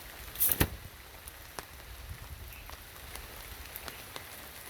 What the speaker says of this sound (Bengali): তো বৃষ্টি বাড়তেছে